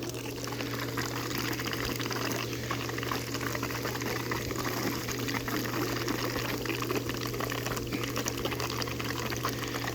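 Warm water from a solar pool heater flows steadily into a pool, a continuous soft rushing and splashing over a low pump hum, unbroken and moderately quiet.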